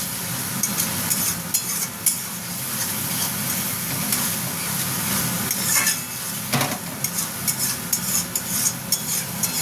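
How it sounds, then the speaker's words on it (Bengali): Tomatoes with prawns and pointed gourd being stir-fried in a pan: continuous loud sizzling with frequent metal spatula clinks and scrapes against the pan, close and steady throughout. "টমেটো দিয়ে এটাকে ভালো মতন আমি কষবো।"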